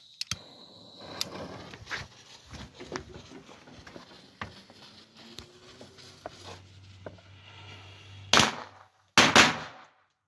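A homemade firecracker cannon fired outdoors, with a scatter of sharp cracks and pops, then two loud close blasts near the end, no voices.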